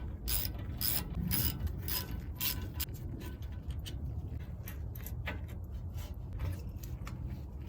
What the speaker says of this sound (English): You just want to grab your 13mm and take off these caliper guide pins.